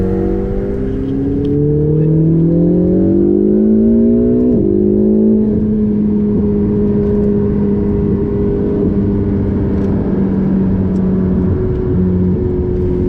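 A Ferrari 488 GTB engine drones loud and close on the Le Mans 24 Hours circuit, its note climbing smoothly through the revs, dropping sharply at a gear change, then holding a steady high hum, with no voices.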